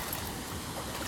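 A creek flows near a waterfall area, with a soft, continuous rush of trickling water heard faintly and evenly for a brief moment, with no voices.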